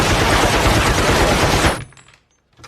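A Gatling gun fires in a film scene: a dense, loud, continuous burst of rapid shots for nearly two seconds, then an abrupt stop into near silence.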